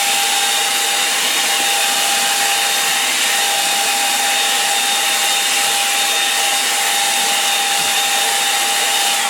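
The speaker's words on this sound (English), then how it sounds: "I'll just give that a quick blast with the hairdryer just to dry it off so I can crack on." A hairdryer blows a continuous loud, steady whoosh with a thin whine while drying a painting, close and unbroken for the whole stretch.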